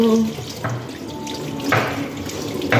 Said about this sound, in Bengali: এখন খাওয়া দাওয়া হয়ে গেছে, হাতটা ধুয়ে নেব